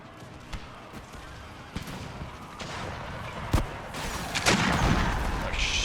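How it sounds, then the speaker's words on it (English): Cannon fire in the video game Empire: Total War, heard as several sharp booms and crackling volleys over a steady battle din, with a louder burst of fire swelling toward the end. "Cannons are shooting our own."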